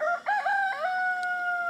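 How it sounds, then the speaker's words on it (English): A rooster crows once in a long, clear, drawn-out cock-a-doodle-doo near a backyard flock of hens, standing alone against a quiet background. "the rooster agrees with me"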